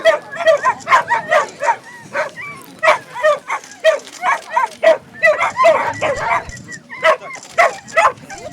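Several dogs, whippets and other sighthounds gathered at a Russian Cup lure coursing award ceremony, bark and yip in rapid, repeated bursts close by, the barks overlapping in a busy, uneven rhythm.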